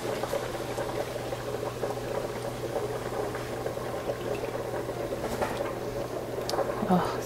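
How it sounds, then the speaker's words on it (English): Liquid is poured slowly into a pan for alfredo sauce, a steady bubbling, sizzling wash over a constant low hum, with a person talking quietly over it. "And just slowly pour this in."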